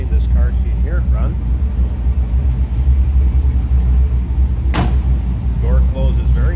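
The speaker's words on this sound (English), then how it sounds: "There's a little rumble coming out of that 350." A 1966 Chevrolet Corvette roadster's 350 V8 engine rumbles low and steady nearby while someone speaks over it, with a brief sharp knock midway.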